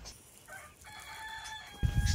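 At an animal rescue farm, a rooster crows with long drawn notes while chickens cluck around it, followed by a burst of loud close thumping or rustling near the end.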